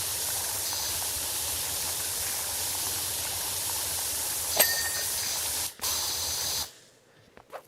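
Pressure washer spray from PowerWash Simulator 2 hisses as a steady, loud broadband jet, briefly cutting out near the end before resuming and then stopping, with no talking.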